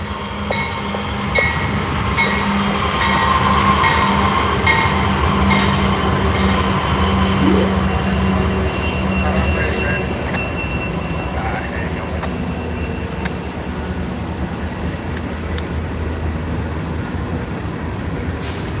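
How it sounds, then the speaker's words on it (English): A CSX freight train led by an AC44C6M locomotive rumbles past from high above on a cliff, a loud continuous roll of wheels with clicking and faint squeals as someone talks over it. "An AC 44C 6M locomotive model."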